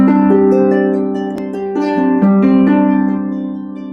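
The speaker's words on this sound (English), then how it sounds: "If I lean into the low end, it sounds like this." A short harp phrase played with weight on the low strings: warm, resonant plucked notes sustaining and overlapping up close, the melody stepping down and back up before ringing out, with no talk.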